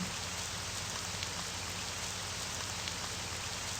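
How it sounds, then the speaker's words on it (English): Steady, dense rainfall from a video game fills the scene, an even hiss of drops on surfaces with no talking. "Again, it rains."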